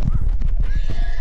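In a survival video game, a horse gives a short, close neigh with a whinny, mixed with clip-clop hoofbeats.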